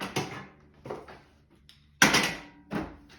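A new DeWalt portable folding workbench being unfolded and set up: a series of sharp metallic clacks and latching knocks, several separate bursts with a louder snap near the middle.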